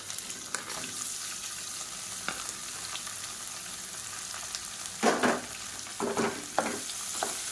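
Urad dal fries in oil in a pan, a steady close sizzle with a few louder bursts of crackling and stirring toward the end.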